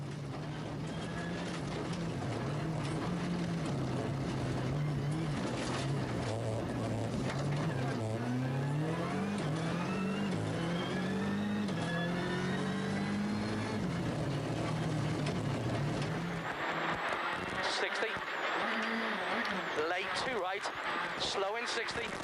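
Onboard sound of a rally car on a gravel stage at the ERC Sata Rallye Açores: the engine drones and climbs steadily through the gears at close range, with a voice talking over it throughout.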